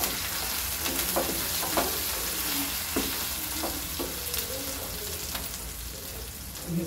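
Homemade masala sizzles steadily in a pan while being sautéed for a Maharashtrian mutton rassa curry, the frying hiss broken by scraping stirring strokes. The sound is close and continuous, with no talking.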